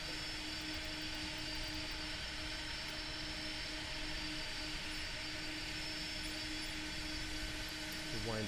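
A Boeing 747-8 jet in a flight simulator game makes a steady, loud broadband engine roar with a sustained whine, holding level throughout as the flyby passes.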